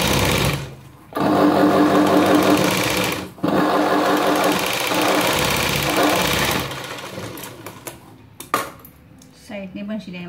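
A sewing machine runs double stitching along a princess cut blouse in long loud bursts, with brief pauses and a few clicks and handling sounds near the end.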